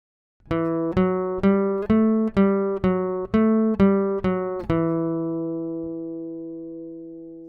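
A slow melodic line of ten plucked notes in a minor key, evenly spaced, stepping up and back down, the last note ringing out and fading.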